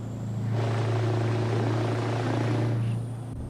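A helicopter in Euro Truck Simulator 2 passes with a steady low rotor drone that swells and then fades, heard alone without talk.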